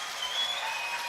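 Crowd noise at a high school state semifinal baseball game, a broad sustained cheer after a run scores, heard from a distance with no talk over it.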